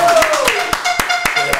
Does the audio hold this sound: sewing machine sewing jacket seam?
no